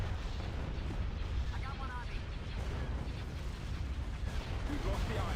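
Cannon fire and explosions roll through a video game battle in a Star Wars strategy mod, a continuous low rumble of distant booms and artillery bursts, fairly faint, with occasional voices over the din.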